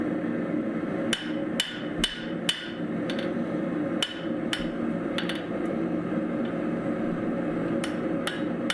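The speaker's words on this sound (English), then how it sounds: "now I'm just continuing to stretch it across the anvil" Hammer blows on hot mild steel over an anvil while stretching a thin tapered bar at black heat, about a dozen sharp ringing strikes in irregular groups over a steady background hum.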